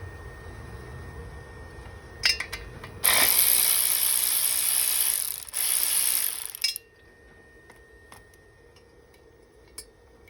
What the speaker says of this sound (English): Remove this bolt, and an inner bolt that you can't see until you take off the side cover.